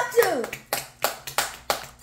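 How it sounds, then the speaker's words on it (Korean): Hands clap in a loose rhythm, about five sharp claps spaced roughly a third of a second apart, for a baby at a birthday meal. A brief high voice sounds at the start. "박수, 박수."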